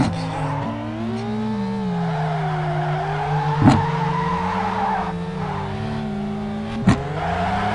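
Race car in the Assoluto racing sim video game sliding and drifting, engine droning steadily with tonal tire squeal sweeping through the corners, plus two sharp clicks along the way.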